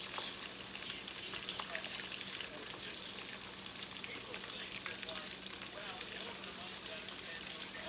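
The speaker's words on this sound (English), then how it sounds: "Just layer each piece real easy down over in the hot oil." Pieces of liver frying in hot oil, giving a steady, dense crackling sizzle with scattered pops that holds evenly throughout, faint and unbroken, with no voices over it.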